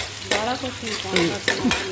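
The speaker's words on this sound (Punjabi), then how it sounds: "ਜਿਵੇਂ ਤੜਕਾ ਲਾਉਨੇ ਆ ਸਬਜ਼ੀ ਨੂੰ ਗੰਡੇ ਪਾ ਕੇ ਤੇ ਜੀਰਾ ਜੀਰਾ ਪਾ ਕੇ" Onions and cumin seeds sizzle in a tadka for a home-cooked sugria sabzi, a close steady hiss broken by a few sharp stirring scrapes, with faint voice-like tones layered over it.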